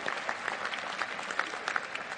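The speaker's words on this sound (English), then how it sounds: "That deserves applause" Audience applause for a university's athletic teams at a Bentley event, a steady dense patter of many hands with scattered sharper claps standing out, moderately distant and without talk.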